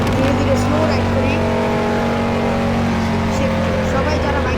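Close, steady engine drone of a Ducati motorcycle being ridden, sustained and unbroken over a few seconds, with a voice faintly present.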